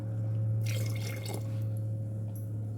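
Water is poured into squeezed orange and papaya juice, a close, steady liquid splash and gurgle over a low constant hum, lasting a couple of seconds.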